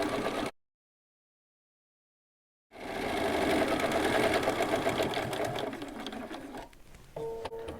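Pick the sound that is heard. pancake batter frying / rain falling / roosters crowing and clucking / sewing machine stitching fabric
sewing machine stitching fabric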